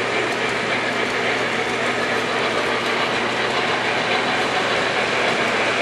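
A model train runs steadily along its track, a continuous rumbling whir with faint rhythmic clicking, close and fairly loud, with no voices.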